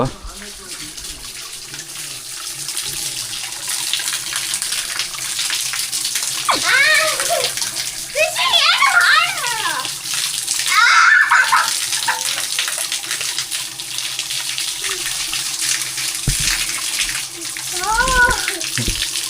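Spring water pours and gushes steadily at the Antaragange pilgrimage site while people splash about, with children's voices rising and calling out over the running water.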